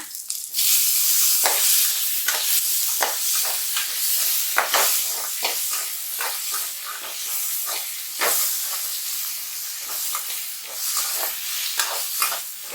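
Onion and tomato sautéing in a pan for village-style ridge gourd chutney, a loud bright sizzle with frequent spatula scrapes at an uneven rhythm, close and without speech.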